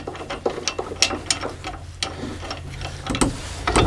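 Small metal thumb screws being worked back into their holes on a Lock N' Load motorcycle hauler, a series of close, light ratcheting clicks and scrapes in an uneven rhythm with no talking.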